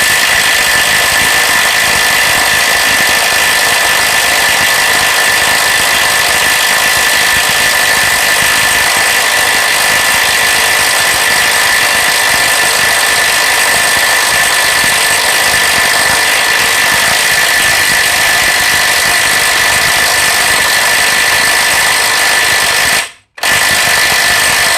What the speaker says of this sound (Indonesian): Saya akan gunakan kunci shock yang menggunakan adapter